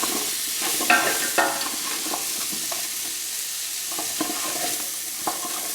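Constant crackling sizzle of vegetables frying in a pot for butter bean oxtail stew, with occasional scraping and knocks of a spoon stirring.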